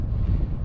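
Steady low roaring wind buffets a microphone on a small fishing boat off the Kuwaiti coast, a continuous rumble with no talk.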